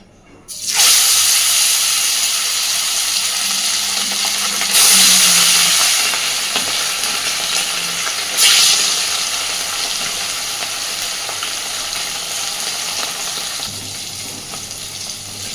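Sardines fry in hot oil with a little flour added, giving a steady, close sizzle and hiss that swells briefly twice and then continues evenly, with no voices over it.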